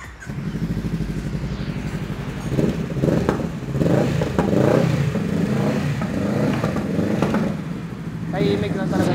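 A Honda Rebel 500 motorcycle engine idles and is revved in several rising bursts, loud and close, with people talking over it.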